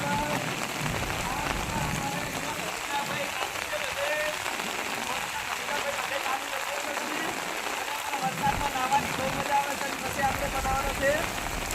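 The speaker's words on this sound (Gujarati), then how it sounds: "વરસાદનું વાતાવરણ ચાલુ છે" Steady rain patters on a surface throughout, a dense, even hiss with scattered drops, continuing without pause.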